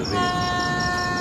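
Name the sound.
train arriving at Ayodhya station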